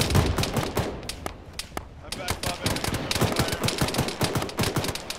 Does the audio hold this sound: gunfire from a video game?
yes